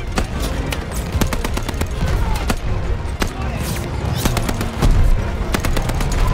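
Machine gun fire in the Call of Duty Vanguard video game comes as rapid, sharp bursts with louder booming impacts, loud and close, over battlefield din and shouting voices.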